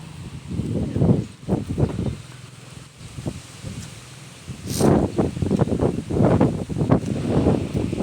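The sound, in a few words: strong wind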